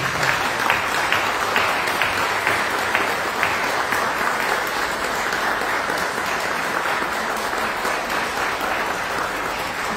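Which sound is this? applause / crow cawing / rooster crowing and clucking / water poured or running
applause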